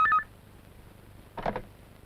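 A telephone number is dialed, a quick burst of dial tones at the start, followed by a short clicking handset sound after a pause, quiet and near.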